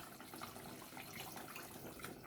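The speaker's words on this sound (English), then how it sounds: "I'm going to add my water now and finish the cooking." Hot water poured from a glass into a pan of Bengali-style fish curry, a faint steady liquid splash lasting a couple of seconds with no talk over it.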